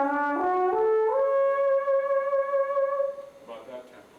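A sustained trombone tone slides up through a few pitches, then holds a long note with a slow, steady vibrato before fading, played alone.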